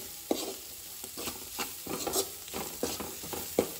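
Homemade garam masala being stirred into a pan of Goan prawn biryani base, soft repeated scraping strokes over a low sizzle, close and fairly quiet.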